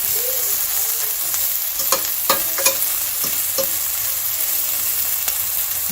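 Onions sizzle and fry steadily in a pot for a burger, a constant hiss with a few brief clanks of stirring, close and alone with no talk.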